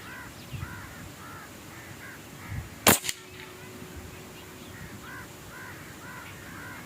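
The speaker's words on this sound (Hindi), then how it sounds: "मज़ीद 2 शॉटें लेके चेक कर लेते हैं, ताकि हमें जो अपना डाउट है वो क्लियर हो जाए।" A single sharp shot from an M22 PCP airgun cracks out close by, a brief loud snap, while crows caw repeatedly in the background.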